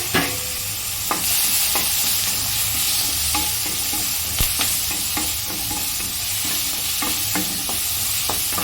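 A spoon stirs green chilies, curry leaves and tomatoes in a hot frying pan for sambar rice, scraping and clinking repeatedly over a constant loud sizzle, with no talking.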